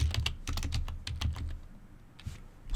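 Quick taps on a computer keyboard, a short burst of close, crisp keystrokes followed by a few scattered presses, with nothing else heard.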